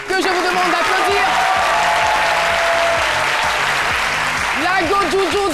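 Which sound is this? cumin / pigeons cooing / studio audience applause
studio audience applause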